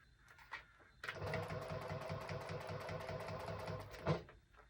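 A domestic sewing machine runs a steady, rapid mechanical stitching rhythm for about three seconds while sewing a wristlet seam, close and clear, with brief handling clicks before and after.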